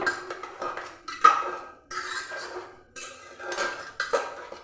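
A metal spoon clinks and scrapes against a pot of boiled red lentils as salt is added, with several separate knocks and rattles close by and no talking.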